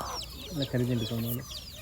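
A rooster clucks in a short burst of low, throaty notes, fairly close, with faint chirping from other birds in the background.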